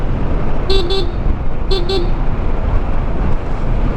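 Car horn honking twice in a pair of short double toots amid steady roadway traffic noise, heard from a motorbike riding through busy city traffic.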